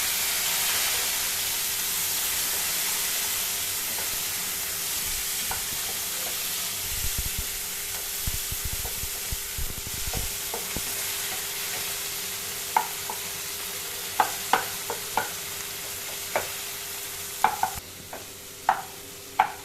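Tomatoes sautéing in a pan for pirandai (adamant creeper) chutney, a soft steady sizzle with occasional stirring scrapes and sharp clicks of a spoon against the pan toward the end, no talking.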